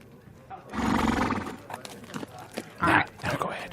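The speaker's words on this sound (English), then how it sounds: "My other horse, Chode, is hanging out outside" A horse outside gives a loud, drawn-out neigh and then a second shorter whinny, close and clear, with faint hoof clops between the calls.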